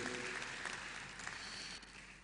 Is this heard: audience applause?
yes